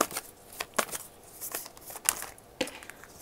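Tarot cards are shuffled and drawn in a series of quick, crisp riffles and slaps. Several sharp card snaps fall at uneven intervals, close and fairly loud, with no voice over them.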